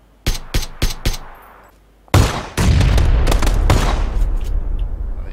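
Gunfire rings out in the shooter game Battlegrounds: four sharp single shots in a quick rhythm, a short pause, then a loud burst of rapid fire that gives way to a sustained rumbling roar, all close and with no talking.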